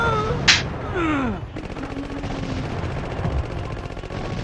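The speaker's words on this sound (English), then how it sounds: "Look at all them 3D explosions." Rapid gunfire and explosions ring out in the PlayStation game Contra Adventure, with a dense, continuous rattle of shots and a sharp burst near the start, loud and unaccompanied by talk.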